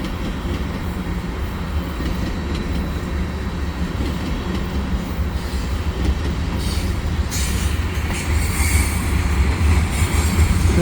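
Westbound CN freight train with two-bay hopper cars, led by five engines, rolling through Atwater Curve: a steady, loud, close rumble of wheels and cars throughout, with faint squealing and clacking.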